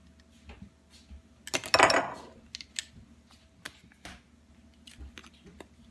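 Metal utensils clink and scrape against a bowl while tapioca flour is added to dry ingredients, one bright rattling clatter followed by a few light taps, close and fairly quiet in an otherwise still kitchen.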